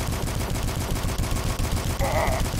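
Assault rifle fire in the retro shooter DUSK, a fast even stream of shots at a steady rhythm, moderately loud, with a brief bright clang near the end.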